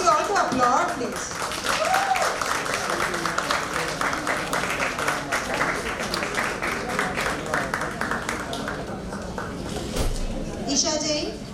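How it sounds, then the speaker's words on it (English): Audience applause at a career talk event, a steady wash of clapping lasting throughout at moderate level, with voices mixed in underneath and a brief spoken fragment near the end. "Request you all to applaud, please."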